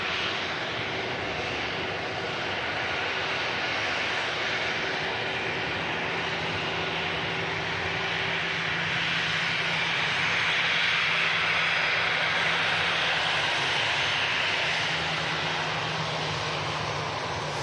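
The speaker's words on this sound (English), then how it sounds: "And the Brussels Airlines just arriving in. A320." A Brussels Airlines Airbus A320 arrives at Manchester Airport, a sustained loud jet engine roar that swells slightly toward the end, heard alone with no talk.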